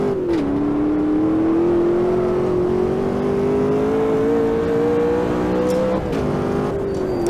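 Rear-wheel-drive 700-horsepower race car in Automobilista 2 held at full throttle in third gear, a loud, continuous engine note climbing steadily, briefly dipping at a shift near the end before rising again, with no talking.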